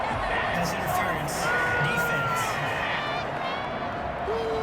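Home crowd at an American football game cheering a pass interference call, a steady roar of voices and whistles beneath broadcast commentary.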